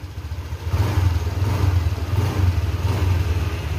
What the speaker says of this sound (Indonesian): khas dari Vario 150 ya, suaranya ngeder-ngeder gimana gitu